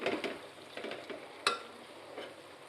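Potato kurma fries in a pan while being stirred, a soft close sizzle broken by a few quick scraping strokes and one sharper clink of the spoon against the pan, with no voices.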